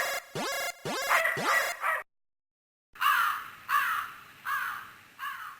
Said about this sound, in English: Ah, it's just a crow.